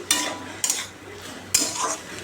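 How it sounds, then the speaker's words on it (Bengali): Bharali fish frying in a pan, with three sharp clattering utensil strokes cutting through a soft sizzle between them. "এই ভাড়ালি ভাজছি এখন"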